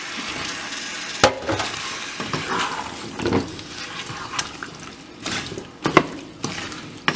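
Potatoes coated in spices, with a splash of water added, sizzle in a pan for an aloo matar curry while a spoon scrapes and clinks against the pan in irregular strokes.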